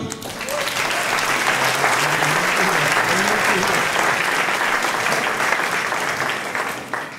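A crowd of spectrators at a musical event applauds loudly and steadily, a thick continuous wash of clapping with a voice murmuring underneath before it tapers at the end.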